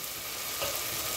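Lentils fry in a pan with a dense, even sizzle, heard close and alone for a brief moment while the dal is roasted for a ridge gourd dish.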